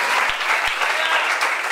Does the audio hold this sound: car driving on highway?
no